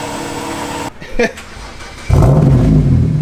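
A straight-piped BMW 335i E93 engine blips and then settles into a deep, steady exhaust rumble up close, with a brief mechanical clunk before it.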